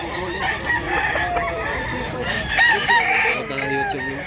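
A rooster, a year-old gamecock, crows loudly and close by, its long drawn-out call rising and falling over farmyard clucking.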